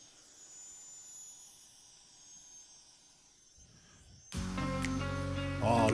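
A model aircraft making a slow, low dirty pass with gear and flaps down, trailing smoke: a faint distant hiss for several seconds, then an engine roar that bursts in suddenly and loudly near the end.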